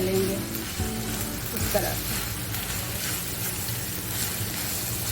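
Minced meat with turmeric and spices sizzles and fries steadily in hot oil, a continuous close crackle with an occasional stir, while someone speaks over it.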